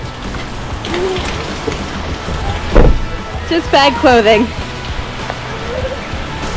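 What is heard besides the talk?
rain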